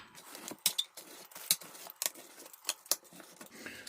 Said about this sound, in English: I'm going to use a pizza wheel to cut it.